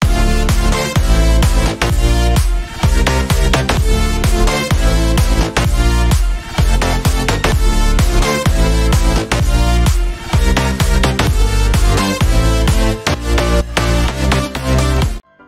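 A loud future bounce electronic dance track made in FL Studio 20, with a punchy, steady kick-driven beat, dense bright synths and heavy bass playing continuously throughout.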